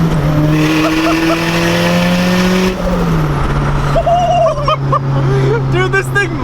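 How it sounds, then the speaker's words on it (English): A turbocharged FRS with a mild exhaust drones loudly from inside the car, its engine pitch climbing and then dropping, with turbo chirps near the end while voices talk over it. "I can't make you guys understand how good the turbo sounds in this because it doesn't have a very aggressive exhaust"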